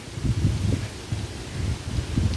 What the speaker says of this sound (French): Ah, le vent soutenu là.